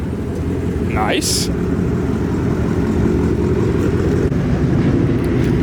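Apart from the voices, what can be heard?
Ford Mustang Boss 302 engine arriving at car meet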